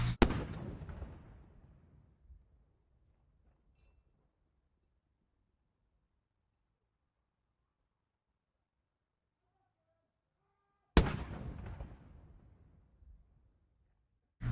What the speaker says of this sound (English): Australia's Defence Force fired 96 rounds for the Queen